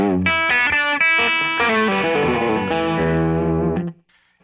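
Electric guitar through the TS-808 overdrive preset on a VP4 multi-effects unit, playing a few mildly driven notes and chords with a warm, boosted tone, loud and alone for about four seconds before ringing off.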